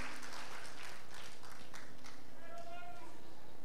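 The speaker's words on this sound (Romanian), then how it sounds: "Să aducem încă o dată aplauze și o plecăciune pentru Fundația Mihai Eminescu și doamna Laura Hunt." An audience applauds at a ceremony in Vienna, a dense sustained wash of clapping that carries on steadily under a presenter's amplified voice.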